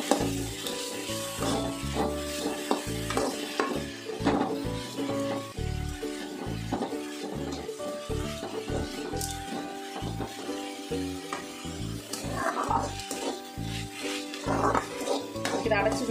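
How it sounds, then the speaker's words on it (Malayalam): Leaf thoran, a Kerala greens stir-fry, being stirred and sautéed in a pan: steady sizzling with repeated scraping and clinking of a spoon against metal, close and continuous, with no talk. "നമുക്കിങ്ങനെ തന്നെ ഇത് വഴറ്റിയെടുക്കാം."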